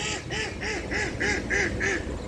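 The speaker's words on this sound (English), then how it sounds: "And it appears that duck agrees." A duck quacks steadily, about seven evenly spaced nasal quacks in a row, close and fairly loud with no talking.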